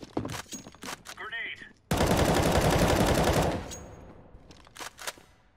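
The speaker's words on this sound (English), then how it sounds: "That's an AK." A sudden burst of rapid automatic AK rifle fire in Counter-Strike: Global Offensive, a loud sustained fusillade of about two seconds that trails off into scattered distant shots and game sounds.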